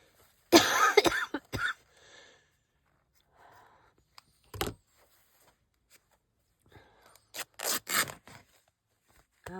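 A person coughs in harsh bursts near the microphone, with a cluster of loud coughs early, a single sharp cough midway and another run of coughing near the end, separated by quiet rustling of paper while crafting.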